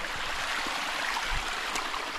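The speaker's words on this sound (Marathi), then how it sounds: "पाण्याचा आवाज बघा मित्रांनो" Steady rushing and trickling of stream water flowing from the base of a fig tree at Kohoj fort fills the clip, continuous and fairly close, with small gurgles and no voices.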